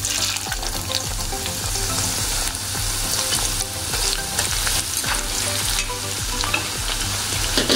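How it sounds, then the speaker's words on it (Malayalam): Half a carrot frying in hot oil for beef kabiri rice, a loud, steady sizzle with crackling pops and occasional stirring scrapes throughout. "ഇതിലേക്ക് ഒരു ക്യാരറ്റിൻ്റെ പകുതി ഇതുപോലെ മുറിച്ച് അതും വറുത്ത് കോരുക"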